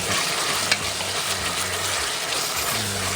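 Beef sautéing in a pan, a continuous bright sizzle with occasional stirring scrapes and one small click, close and steady throughout, with no one speaking.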